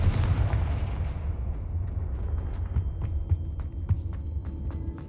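A Confringo spell blast in Hogwarts Legacy, a heavy booming explosion at the start that rumbles and slowly fades, followed by a series of small crackling pops and ticks over a low steady drone.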